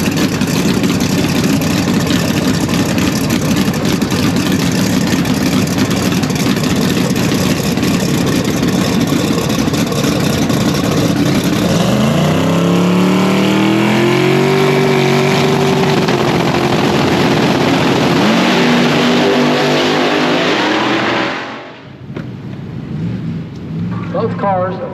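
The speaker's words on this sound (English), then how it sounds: "Both cars, a Pro Charger on board there." Supercharged drag race cars with ProCharger superchargers rumble and rev at a no-prep drag strip, a loud, rough roar that builds into rising engine pitches before dropping away.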